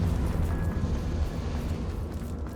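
A Confringo fire spell explodes in Hogwarts Legacy: a dense, rumbling blast that holds steady and heavy for a couple of seconds and has no clear sharp onset, with no talking.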